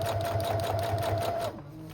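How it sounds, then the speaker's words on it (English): Sewing machine stitching steadily across a small paper shaker ornament with a rapid, even needle hum for about one and a half seconds before it stops and the motor winds down. "So I'm sewing across, making sure to sew far enough in that it's sewing the opening closed."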